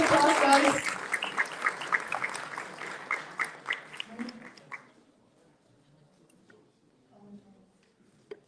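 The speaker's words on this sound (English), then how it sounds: "Big round of applause, guys." A crowd at a charity week finale in Ireland applauds and cheers for about five seconds, the clapping fading into quiet room noise.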